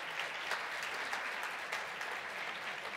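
Sustained applause from the audience for panelists at the close of a Finnish wellbeing panel event, a full, even roar of many people clapping at once, steady and loud throughout with no speech.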